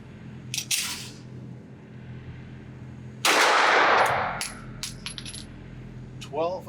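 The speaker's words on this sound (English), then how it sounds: "shoot a few shots through this unsuppressed and suppressed" One sharp, loud report from a 9mm pistol fired through a Huxwrx RAD 9 suppressor at an outdoor range, preceded and followed by faint small metallic clinks and taps, close and isolated.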